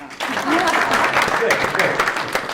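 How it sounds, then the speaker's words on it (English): An audience at a workshop breaks into a short burst of applause, dense and fairly loud, with voices mixed in. "So there, you can clap, come on."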